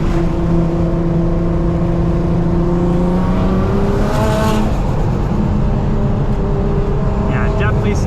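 700HP Nissan R35 GTR on a canyon road, its engine note droning and climbing as it accelerates through gear changes, loud and close inside the cabin with a voice talking over it.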